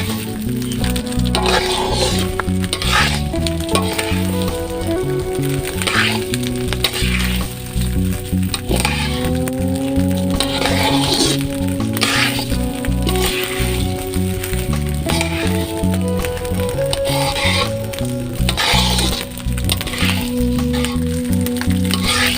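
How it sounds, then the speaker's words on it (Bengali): About two kilograms of rice fries in oil for a Bogura-style fish pulao, giving a loud continuous sizzle full of crackling pops and occasional scraping stirs. "আমি ভালোভাবে চাল ভেজে নিচ্ছি"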